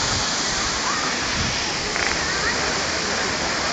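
Singapore's largest man-made waterfall gives off a continuous, dense roar of falling water, loud and unbroken, with voices faintly mixed in.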